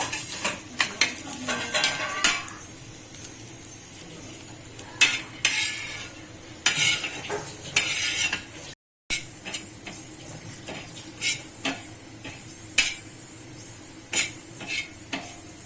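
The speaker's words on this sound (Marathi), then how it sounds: "असा कांदा पण आपण भाजून घेणार आहे थोडं तेलामध्ये." Onion roasting in a little oil for a fish curry masala gives irregular clattering stirs against a pan over a faint sizzle, with a brief silent break midway.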